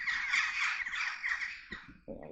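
Crows caw in a military cemetery in Italy, a run of harsh calls across the whole stretch with a louder, closer call near the end.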